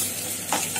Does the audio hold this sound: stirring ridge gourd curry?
yes